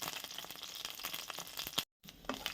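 About fifteen green chillies frying in hot oil for a Telugu tomato roti pickle: a quiet, steady hiss and crackle of sizzling with small pops, briefly cutting out before resuming, no talk.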